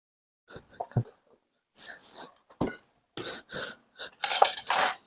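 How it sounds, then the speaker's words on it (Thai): Food being plated onto a dish in a home kitchen after cooking Thai wontons, with scattered clinks of utensils against ceramic and soft scraping, close and intermittent, with some breathing and movement noises. "จัดจานก่อนนะครับ"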